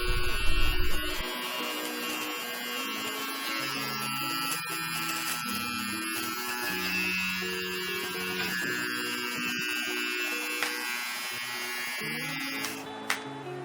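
A Philips Multigroom beard trimmer running close by, a steady high electric buzz and whine with slight pitch shifts as it works, and a click near the end.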